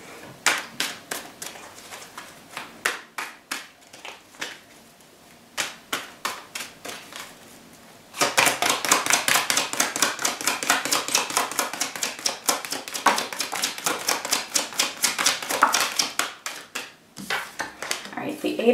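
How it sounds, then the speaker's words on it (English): Tarot cards are shuffled and riffled close up, giving rapid clicking flutters in short bursts and then a long dense run of snapping card ticks. "So let me pull just a few tarot cards."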